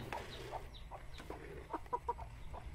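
Chickens on a farm, only a small flock remaining, give quick clucks and brief squawks in a loose cluster, fairly near, over a steady low hum.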